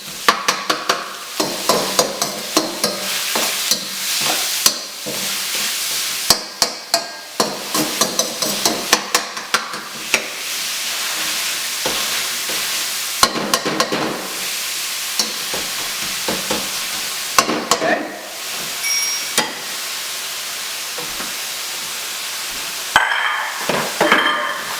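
Beef for pad krapow fries loudly in a pan while a utensil minces and scrapes it, producing a steady hiss broken by rapid, irregular sharp knocks and clacks throughout.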